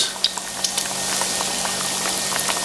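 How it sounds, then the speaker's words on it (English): Roti goreng wijan dough, the sesame-coated odading, fries in hot oil with a steady bubbling sizzle, fine crackles and pops scattered over the constant hiss, close and fairly loud. "And we will fry them until they're nice and crispy and golden brown."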